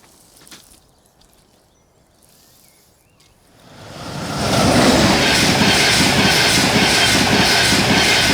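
A Northern passenger train bound for Manchester Victoria via Halifax rolls past, starting from quiet ambience with faint chirps before a loud, sustained broadband rumble and rush swells in and holds steady nearby.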